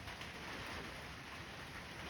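Steady rain falls on a shelter roof during a backpacking trip, a soft, even patter that holds at a constant level throughout with no talking.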